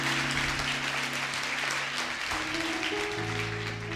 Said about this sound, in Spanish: Denle un aplauso más fuerte a Dios entonces